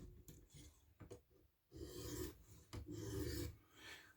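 A Spyderco Pacific Salt knife blade is drawn over a sharpening stone with very light pressure, a series of close, gritty rasping strokes separated by brief pauses.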